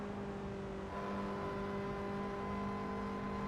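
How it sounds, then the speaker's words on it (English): A race car engine in Assetto Corsa drones steadily around the Nordschleife, a constant mid-pitched whine with fixed tonal hum, moderately loud and unbroken, with no talk. "that engine doesn't sound too strong, does it?"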